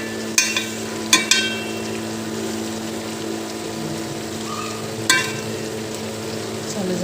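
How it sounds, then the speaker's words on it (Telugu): Fish pieces fry in oil with a low, steady bubbling sizzle, broken by a few sharp clinks of a utensil against the pan. "చూడండి నూనెలో ఎర్రగా వేగుతున్నాయి కదా"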